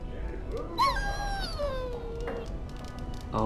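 A dog whimpers in the fantasy role-playing game Dragon Age: Origins, giving one long, falling whine with a shorter yelp after it, over quiet game ambience.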